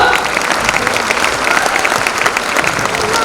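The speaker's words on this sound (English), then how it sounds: "There is a huge round of applause for the school topper." A large annual day audience gives a loud, sustained round of applause for a school topper, with dense clapping throughout and a faint crowd murmur underneath.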